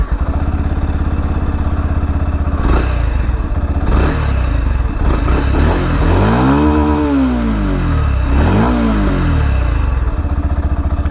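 A Yamaha FZ V3.0 motorcycle revs its exhaust, rising and falling through a few throttle blips with a deep, bassy note. The engine is close, loud and alone, with no talk.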